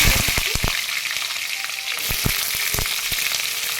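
Panch phoron and dried red chillies sizzling in hot oil, a bright, steady crackle broken by sharp spattering pops and a few utensil taps, loud and close.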